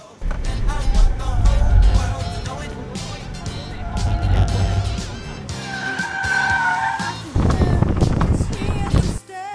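A BYD Seal 06 EV electric car on a test drive, with engine and tire noise and a brief squeal. Voices talk over it.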